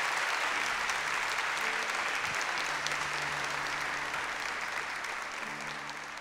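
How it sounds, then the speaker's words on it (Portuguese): Church audience applauding after a sermon on conversion, a broad continuous wash of clapping heard alone from a distance, steady throughout and tapering slightly at the end. "E você pode aplaudir o seu irmão agora"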